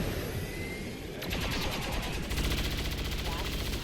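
Soldiers fire weapons in the video game XCOM 2. Rapid bursts of gunfire rattle continuously over dense, loud combat noise, with the firing growing heavier partway through.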